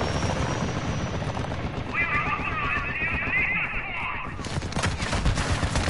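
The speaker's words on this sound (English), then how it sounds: "You heard the dang plane." Aircraft roar and rapid automatic gunfire in Call of Duty Modern Warfare 2 multiplayer, a dense continuous barrage with a plane's whine sweeping through the middle, loud and busy throughout.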